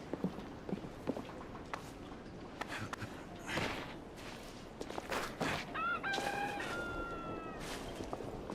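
A rooster crows once amid a morning scene in The Order: 1886 set in Victorian London, its call rising clearly over scattered clip-clop hoofbeats, clucks and other faint ambient noises.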